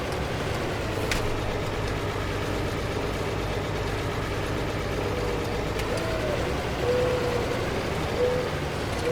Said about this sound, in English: the engine sound is really loud. Because obviously this tractor doesn't actually have a cab.